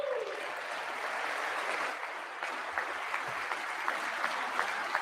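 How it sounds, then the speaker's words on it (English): An audience applauds during a State of the Union address, steady dense clapping throughout with a few sharper individual claps near the end, fairly distant and even in level. "They're going to stop and clap and stand up every goddamn sentence he makes?"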